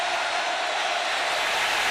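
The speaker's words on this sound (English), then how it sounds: "Listen to this crowd on 3rd and 8" Loud, steady roar of a college football stadium crowd on third and eight at Alabama versus Florida State, a continuous wash of noise without breaks.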